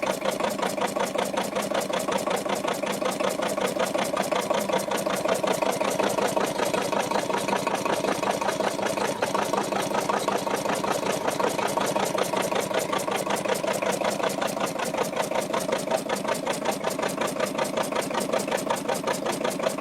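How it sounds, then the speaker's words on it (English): An antique KHD MAH 322 single-cylinder, four-stroke, water-cooled direct-injection diesel engine idling: a fast, even, steady knocking beat that carries on unbroken and fairly loud throughout, close by, with no talking. "The MAH 322 is a single-cylinder, four-stroke diesel engine featuring direct fuel injection and water cooling"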